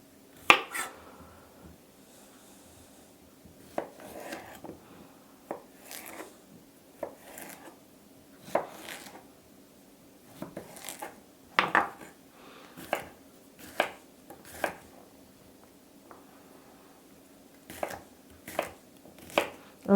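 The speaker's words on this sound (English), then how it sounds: "I'm just chopping these into fine little, like a small dice." A knife chops two cucumbers into a small dice on a cutting board, giving irregular bursts of sharp, close taps with brief pauses between runs, and no voices.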